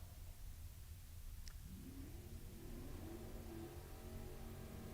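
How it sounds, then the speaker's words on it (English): Drag racing car doing burnouts at the La Texan Lasso event, a steady loud engine roar with a rising rev tone building midway, heard from a distance with constant background noise. "Completing the burnouts."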